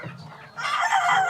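Desi hens on a large poultry farm, clucking and crowing-like calls close by, a short burst that swells in the second half, no speech.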